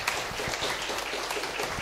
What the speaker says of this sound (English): Let's give Andrew a big round of applause, everybody.